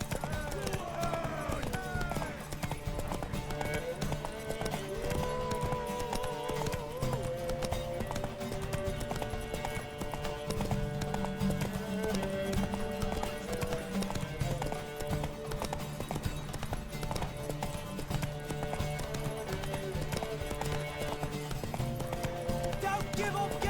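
Horse galloping in The Witcher 3, a steady rapid clip-clop of hooves running under continuous game music and occasional talk.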